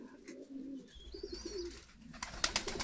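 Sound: Stavropol white high-flying pigeons cooing

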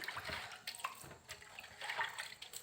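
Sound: water running while washing vegetables

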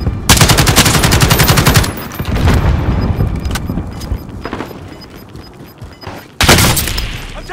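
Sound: gunfire in Call of Duty: Modern Warfare Warzone video game

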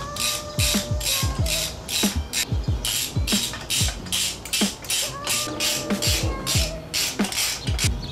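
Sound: screwing air cleaner screws onto Harley Sportster backing plate

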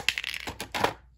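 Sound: small golden toy building piece dropping

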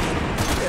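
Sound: gunfire in Resident Evil 6 video game

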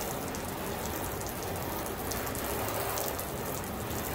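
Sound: water sheeting off a waxed car

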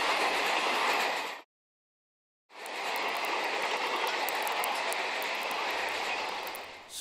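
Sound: locomotive train passing

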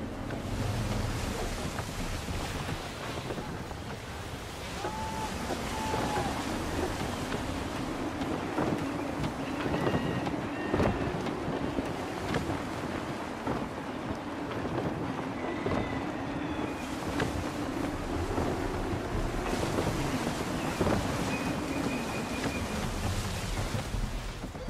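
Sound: gusty wind and sailing ship at sea in Assassin's Creed III video game

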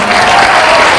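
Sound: audience applause

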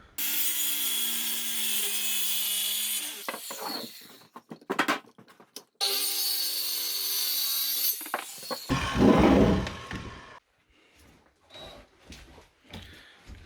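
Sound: sawing a wooden board for a shelf

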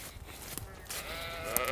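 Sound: sheep bleating

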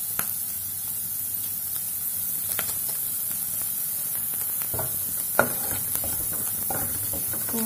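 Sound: stirring masala into frying Maggi noodles in a pan

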